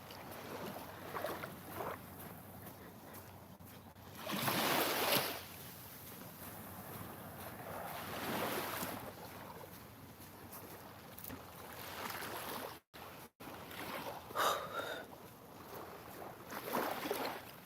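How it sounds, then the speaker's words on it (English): Ocean waves by the sea at sunrise in Jamaica roll in as slow, swelling surges of rushing noise, rising and fading every few seconds over a steady breezy background. "I just wanted to be quiet so that you can watch the sun and listen to the waves."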